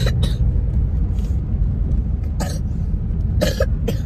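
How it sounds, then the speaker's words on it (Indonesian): A child coughs at home in several short, harsh bursts spaced across a few seconds, close and loud over a steady low rumble. "Hari ni dia batuk tau."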